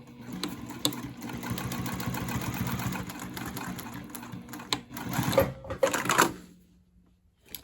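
A sewing machine stitches random quilting lines across a bag panel for a backpack, running in a steady rapid whir for several seconds, then stopping and restarting in short bursts before falling quiet.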